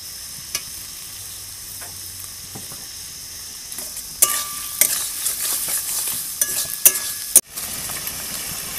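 Spices and potatoes stir-fried together in a pan with salt and chopped tomato, a steady soft sizzle broken by scattered spatula scrapes and clinks against the pan, with one abrupt sharp knock late on.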